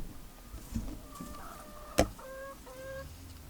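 A broody hen sits flat on her eggs, giving soft, low clucks at a distance, with one sharp click partway through and quiet farmyard background.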